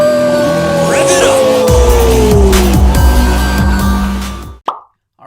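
A car engine revving with squealing tires, used as a sound effect, gives a loud whine that slides slowly downward over a rough roar. It cuts off abruptly, followed by a brief thump and silence.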